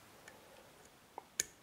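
A lock pick sets a pin in a Saturn lock, giving a single small, sharp click near the end, with a couple of fainter ticks before it in a quiet room.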